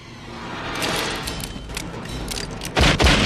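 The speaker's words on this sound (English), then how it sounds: "One of the Cowboys goes for his gun, prompting the Earps to open fire on the thugs" Western film shootout with gunfire, booming shots and rumbling echoes over a noisy cinematic mix, ending in two heavy close blasts.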